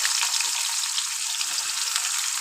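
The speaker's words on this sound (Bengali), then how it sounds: "বন্ধুরা দেখো কড়াইটা বসিয়ে দিচ্ছি, তেল গরম হয়ে গেছে।" Onions fry in hot oil in a wok, giving a steady, dense, close-up sizzle that stays even throughout with no talking.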